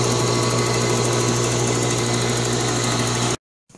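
A Prazi SD300 lathe runs through a cut, making a steady, loud mechanical whir with a constant hum, then stops abruptly, leaving near silence for the final half second.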